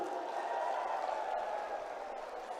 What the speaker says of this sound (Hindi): एक बार मैं तालियां चाहूंगा आपकी तरफ से भी